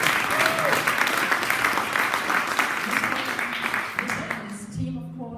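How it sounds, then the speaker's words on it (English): A crowd applauds Greg at a hackathon prize handover in Berlin, with loud, dense clapping that holds steady and then thins out as a voice emerges near the end. "Round of applause for Greg."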